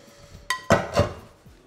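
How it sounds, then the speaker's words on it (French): Small saucepans and dishes clatter in a sink while being washed, with a few sharp metallic clinks and clanks over a faint running hum, close and moderately loud, no talking. "Je suis à la vaisselle."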